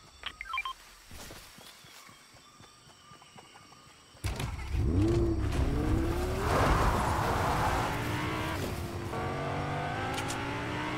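A car in the Fortnite video game starts up and drives, its engine rising and revving loudly and steadily after a few seconds of quieter game sounds.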